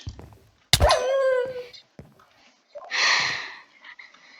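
A dog in Minecraft, a modded game, snarls and yelps close by, a harsh tonal cry followed by a raspy growling burst, with brief gaps of quiet.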